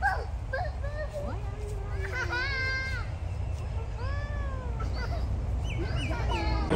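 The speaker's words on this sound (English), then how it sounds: "That's the beautiful cat." A cat meows repeatedly outdoors at a place with a meadow and sunset view, several rising and falling meows spread through the stretch, close and clear over steady background noise with a person talking.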